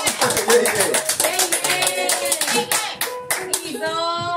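An audience at a café concert claps along in a steady rhythm, dense sharp hand claps repeating close by, with music tones sounding toward the end.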